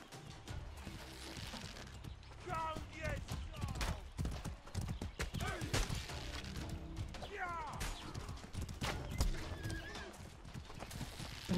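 Horse hooves and neighing in the medieval combat video game Mordhau: steady clip-clop of galloping hooves with several whinnies, set against loud battle clatter and someone talking over it.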